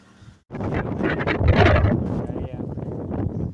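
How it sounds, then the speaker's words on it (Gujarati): Strong gusts of wind buffeting the microphone in a forest near hills and a river, rumbling loudly and close for a few seconds after a brief quiet start. "અને પવન મસ્ત આવી રહ્યો છે"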